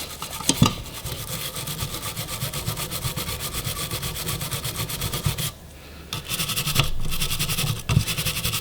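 Brass parts of an SKS rifle are scrubbed hard with a brush, giving a loud, steady rasping scratch in quick back-and-forth strokes with a few short pauses and knocks.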